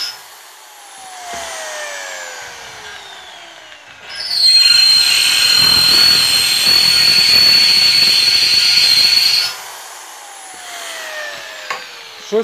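A power drill whirs loudly and steadily for about five seconds while building a shed, the bit struggling to bite, starting and stopping abruptly, with quieter mechanical hum before and after.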